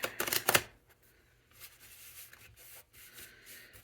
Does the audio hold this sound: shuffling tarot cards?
yes